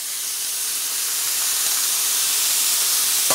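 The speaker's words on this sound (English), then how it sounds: "be careful of there are any splatters of oil or butter popping" Oil and butter in a hot pan give a loud, continuous close hiss and sizzle, with a faint pop near the end and no talking.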